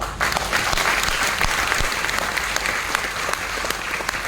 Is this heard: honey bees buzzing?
no